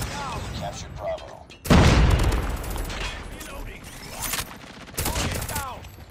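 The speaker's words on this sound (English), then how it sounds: "Dude, it's pre-firing me, man." Call of Duty first-person shooter gunfire crackles in rapid bursts and volleys, with a heavy blast near the two-second mark and another burst toward the end, loud and close, while a player talks over it.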